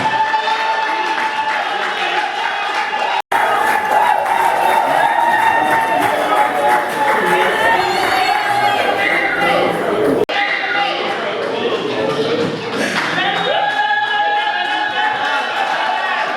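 Loud sustained applause and cheering from a crowd at a 60th birthday celebration in Los Angeles, with clapping, whoops and chatter continuing throughout.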